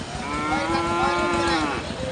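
A bull at Ghoradhap cattle market gives one long, low, steady moo, close and clear, lasting about a second and a half.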